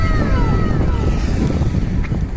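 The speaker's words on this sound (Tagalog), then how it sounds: "grabe lakas ng hangin" Strong wind roars steadily across the microphone aboard a fishing boat at sea, a dense, continuous rumble with water wash beneath and no voices.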